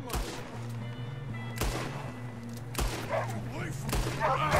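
Pistol shots in Red Dead Redemption 2, four sharp cracks spaced about a second apart over a steady low game hum, with a voice speaking faintly underneath toward the end.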